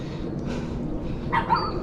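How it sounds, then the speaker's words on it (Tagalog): A dog gives a couple of short barks in the distance over a steady outdoor rumble. "Tumahol yung aso."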